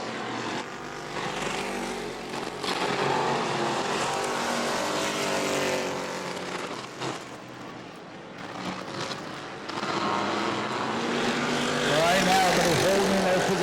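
Super stock race cars roar around the New Smyrna oval, engines droning loudly and continuously with passing swells, under a commentator's running play-by-play.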